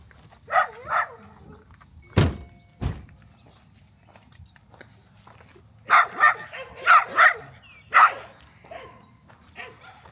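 A guard dog barks outdoors in loud bursts: a pair of barks, then after a short pause a rapid cluster of four or five barks, with a couple of sharp thumps in between and faint background noise.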